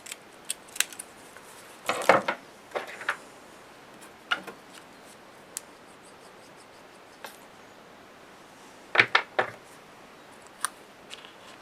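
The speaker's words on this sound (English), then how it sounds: "So just cut out some paper strips here and glue over." Scissors snip paper strips for a handmade pop-up mini album in quiet, scattered cuts, with a couple of clustered double snips and soft ticks between them.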